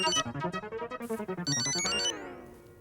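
A phone ringtone plays a quick melodic tune, loud and near, with repeated bright chiming notes for a couple of seconds before cutting off.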